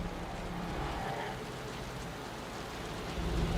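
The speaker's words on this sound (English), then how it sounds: "The rain's getting heavier." Steady rain falls in the video game Wuthering Waves, a dense, even hiss of drops on surfaces with a low rumble beneath, moderately loud and continuous throughout, no talking.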